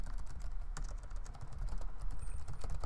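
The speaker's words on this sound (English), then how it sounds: "Sorry, I'm just typing something real quick." Fingers tap quickly on a computer keyboard in a podcast studio, a close, fairly quiet run of irregular clicks lasting about three seconds with no speech over it.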